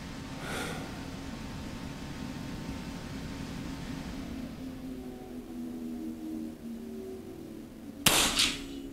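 An FX DRS Pro air rifle is fired from the prone position, giving one sharp, close report near the end after a stretch of quiet background hum, with no talk.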